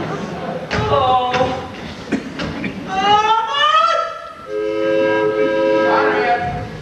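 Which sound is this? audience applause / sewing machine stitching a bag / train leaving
train leaving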